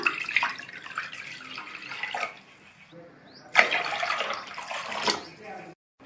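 About 1.5 litres of water pours steadily into a mixing bowl in two bursts, splashing and gurgling close by, with a short quiet pause between them.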